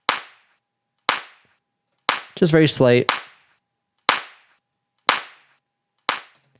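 Punchy layered clap drum sample with a sharp added transient, struck six times at a steady one-second pulse, crisp and dry with quick decays, with a short spoken remark between two of the hits.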